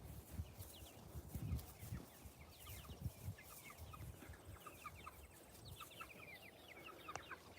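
Five-week-old Cornish cross chickens on a homestead cluck and peep in a steady, overlapping chorus, faint and close, with no talking.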